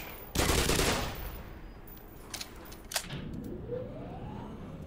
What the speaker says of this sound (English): That seems wasteful, just using the shotguns for our head crabs